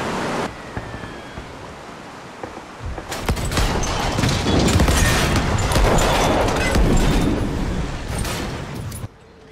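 Broadside cannon fire from a warship in a naval battle in The Great War video game, a dense rolling barrage of booms and blasts that swells after a quieter opening and stays loud and continuous before cutting off.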